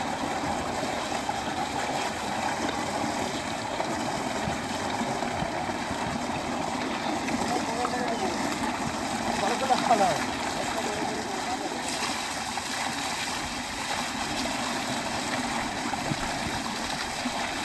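An electric motor pump pours water onto a village farm field, a steady loud rushing splash that continues unbroken throughout, with a brief louder surge midway and no clear voices.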